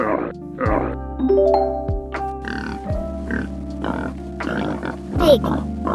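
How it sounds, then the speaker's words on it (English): A pig grunting and oinking in a series of short, throaty bursts, with a voice and tonal background sounds running alongside. "Pig."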